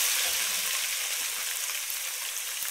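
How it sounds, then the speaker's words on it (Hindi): Steady, dense sizzling of ginger garlic paste frying in a hot pan, close and continuous, with faint stirring and no voices. "अदरक लहसुन का पेस्ट डालेंगे इसे कम चलाएंगे"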